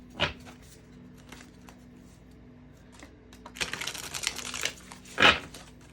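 Tarot cards shuffled in bursts, a short riffle near the start, then a longer rustling shuffle and a sharp final snap of the deck, close and moderately loud against a quiet room hum.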